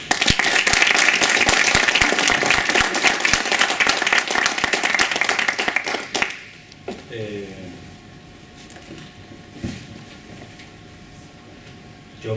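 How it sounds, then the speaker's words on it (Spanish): An audience at a talk gives a loud, dense round of applause for about six seconds. The clapping then fades into a quieter room with scattered claps and a voice. "os dejo con él y pidiendo por supuesto un fuerte aplauso."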